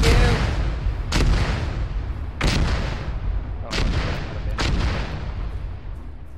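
Incoming artillery in the military game Arma lands as four heavy, booming impacts spaced a second or so apart, each a sharp blast trailing into a rumbling, distant-sounding decay over constant low background noise.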